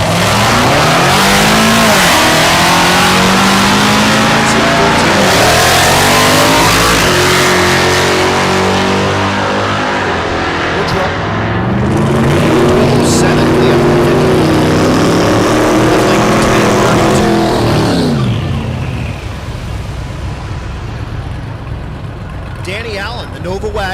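Drag race cars at Thunder Valley in Noble, Oklahoma, a Nova wagon and a Corvette, rev loudly with engine notes rising and falling, a continuous roar under an announcer's talk.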